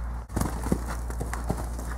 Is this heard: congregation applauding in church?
no